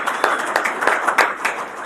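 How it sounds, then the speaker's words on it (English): An audience at an Army intelligence breakfast event gives a short round of applause, scattered hand claps with a few sharper individual claps, heard up close without voices. "let's give her a round of applause"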